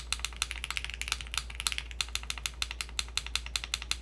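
Rapid, crisp clacking of keystrokes on a custom-built mechanical keyboard with aluminum parts, heard up close in a steady, fast typing rhythm with no talking.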